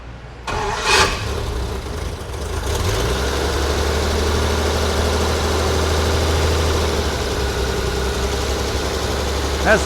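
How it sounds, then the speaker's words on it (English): The cold V12 engine of a 1938 Lincoln Zephyr cranks briefly, catches, and settles into a steady, rumbling idle that continues to the end. "Now it's a cold engine, and we can start it up and see what we've got."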